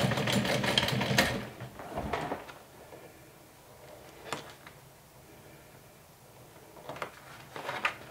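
A sewing machine back stitches a seam on a glow-in-the-dark backpack, running in short close bursts separated by pauses and small clicks.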